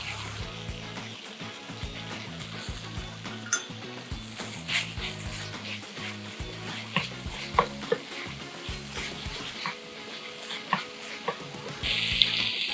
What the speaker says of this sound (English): I'm adding the bok choy leaves.